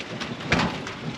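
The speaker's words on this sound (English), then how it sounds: "Rainy morning today." A steady soft hiss of rain falling outdoors, with a faint low rumble and a slight swell midway, no voices.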